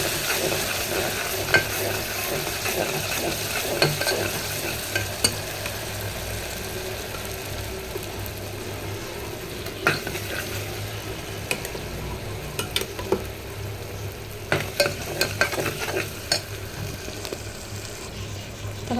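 Ginger, garlic and onion masala fries in a pan for Rayalaseema chicken biryani, a steady sizzle broken by repeated sharp scrapes and knocks of a spoon stirring against the pan.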